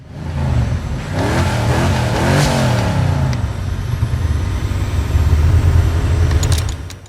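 A car engine in a film scene revs up loudly and close, then settles into a sustained throaty drone for several seconds before fading, with no talk over it.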